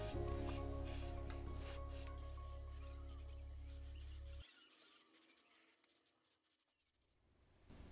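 Airbrush spraying Mission Models paint onto a Revell King Tiger model tank: a soft, close, continuous hiss with a low hum that cuts out partway, leaving faint rustling before a brief return.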